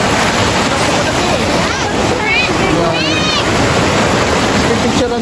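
Steady broadband rush of Mother Falls waterfall in Baler, Aurora, with clear water pouring continuously close by; brief chirping bird calls rise above the roar midway through.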